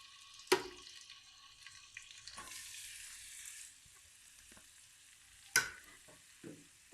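Onions dropped into half a cup of hot oil in a kadai, a sudden loud sizzle that settles into a soft, steady frying hiss, with a second sharp burst of spattering later and faint clinks of stirring.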